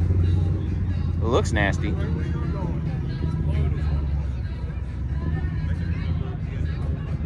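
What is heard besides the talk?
classic Dodge Charger car engine running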